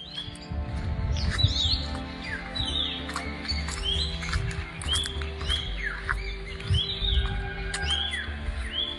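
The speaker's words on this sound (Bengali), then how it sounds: "গাছে পাখি আছে," Many birds chirp and call in the trees of the Kulik forest bird sanctuary at Raiganj, with repeated sharp, overlapping tweets nearby above a low rumble of background noise and rustling.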